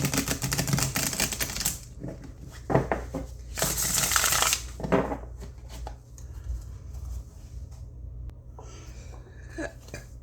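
Tyldwick tarot cards riffle and snap in quick bursts, pausing between shuffles, close by and fairly loud, with faint handling sounds in the gaps.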